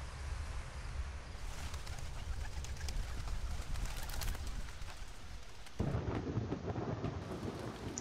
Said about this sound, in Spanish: Tormenta.